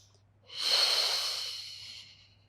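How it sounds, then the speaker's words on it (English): A person draws one deep, audible breath in through the airway during a beginner Pilates spine-mobility exercise: a soft, airy rush that swells quickly, holds steady, then fades over about two seconds, close and alone without speech. "In breath."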